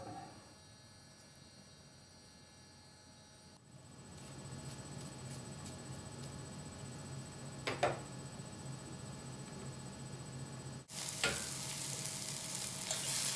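Onions cooking down slowly over medium-low heat in a pan, a steady soft sizzle with low hum, briefly louder with a couple of clatters and a brighter burst of frying near the end.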